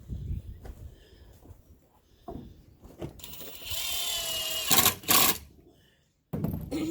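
A bottom board is screwed into a bathroom cabinet being built inside a tiny-home cargo trailer: light knocks and handling, then a sustained whirring drive of about three seconds, a brief pause and a second short burst before quiet.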